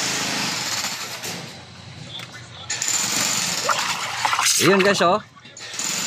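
Gas hissing forcefully from a leaking household gas stove under repair, a loud steady rushing noise near the microphone, with someone talking over it.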